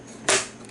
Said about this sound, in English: That's the sound of the clip hooking in.